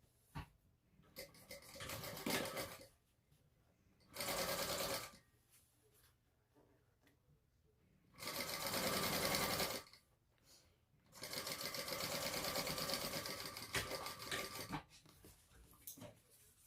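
A sewing machine stitching a bag seam runs in four separate bursts, close and steady, with quiet pauses between them and the last burst lasting longest.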